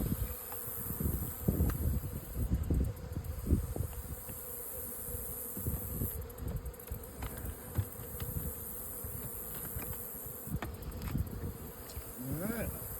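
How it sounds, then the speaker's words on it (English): Bees swarm and buzz around a hive fitted with a propolis trap, a dense, close drone of many wings with individual bees passing by the microphone, plus occasional handling bumps and knocks. "Bees are excited."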